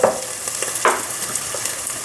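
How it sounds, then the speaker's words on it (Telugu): Ginger garlic paste frying in a pan for a Godavari-style fish curry, with a steady close sizzle and a few brisk stirring scrapes, fairly loud throughout. "మనకి అల్లం వెల్లుల్లి పేస్ట్ వేగింది కదా"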